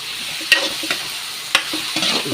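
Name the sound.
sautéing and stirring dinuguan ingredients in a pan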